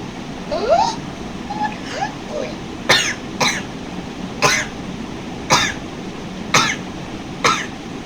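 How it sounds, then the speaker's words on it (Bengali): A person coughs in a series of sharp, separate bursts that repeat every second or so, some coming in quick pairs, close and fairly loud over a faint background hiss. "তাল মাতালদের এমন কাশি"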